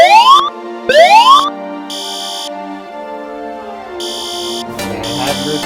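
Fire alarm sounding in a Roblox hotel game: loud rising sweep tones in two bursts, then steady buzzing horn pulses with a sustained tone underneath, ending in a noisier burst.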